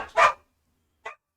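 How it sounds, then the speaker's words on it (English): A dog indoors gives two sharp barks, the first fuller and louder, the second short and quieter after a brief pause, with silence between them. "Now my dog is barking."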